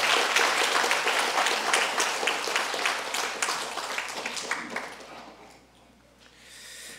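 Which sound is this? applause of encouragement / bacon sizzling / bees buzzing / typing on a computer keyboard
applause of encouragement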